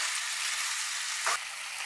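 Pieces of duck meat fry in oil alongside green chilies and curry leaves, giving a steady close hiss with a brief utensil clink partway through.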